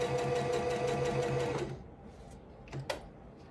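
A sewing machine stitches a ribbon skirt in a fast, steady mechanical whir for about a second and a half, then stops, leaving a few soft handling clicks and taps.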